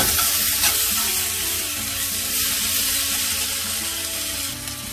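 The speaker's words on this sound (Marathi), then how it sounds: "आता मी टोमॅटो टाकतो" Tomatoes hit a hot pan of cauliflower masala for gobi mussallam, setting off a loud, steady sizzle and frying hiss that holds for the whole stretch with no voices.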